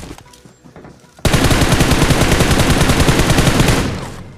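Sustained automatic gunfire in a video game erupts suddenly after quiet, a rapid unbroken burst of loud shots lasting about three seconds before trailing off.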